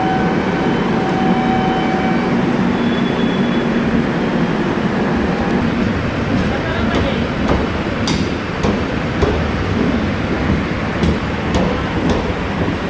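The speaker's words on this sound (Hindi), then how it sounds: "अब ट्रेन जाने लगी।" Train departing a station in India, a loud continuous rumble and rolling clatter of wheels on rails with faint screechy tones and a few sharp clanks, sustained throughout with no talk.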